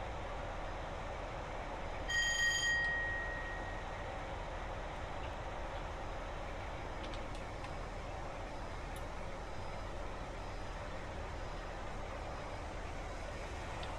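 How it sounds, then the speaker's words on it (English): A steady, low diesel engine drone from an HST train in Train Simulator 2018 runs throughout with rumbling mechanical noise, and a brief tonal whine rises near the start. "I love the engine noise on it"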